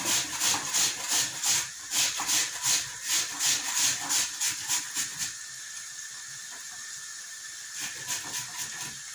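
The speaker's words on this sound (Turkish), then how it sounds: "suya rendeliyorum ki hem kararmasın hem nişastasını da bıraksın diye" Raw potatoes are grated into water for stuffed balloon pişi. About a dozen even, rhythmic rasping strokes come up close for several seconds. A quieter pause follows, then a few more strokes at the end.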